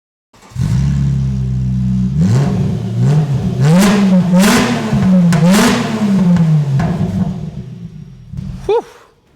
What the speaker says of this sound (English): So that's how Subarus sound without an exhaust system.